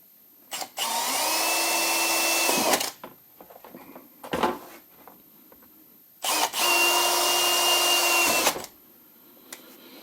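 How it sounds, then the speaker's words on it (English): A power drill whirs in two long bursts of about two seconds each, close and loud, with short clunks and handling noises in between. "Drill some holes."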